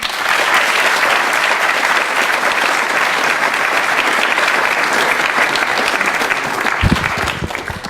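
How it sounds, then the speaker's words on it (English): Audience applause after a debate, a dense, steady patter of many hands clapping at moderate distance, with a few louder nearby claps near the end. "let's please clap these two gentlemen again"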